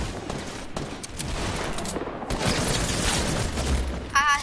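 Rapid gunfire from a video game shootout crackles throughout, dense bursts of shots layered over a busy game mix, with a brief electronic tone near the end.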